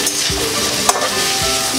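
Pasta ingredients frying in a pan give a loud, steady sizzle, close up, with a brief clink of a utensil midway.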